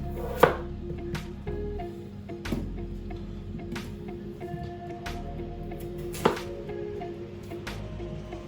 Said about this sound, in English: So I cut them in half, and I cut them down the middle like that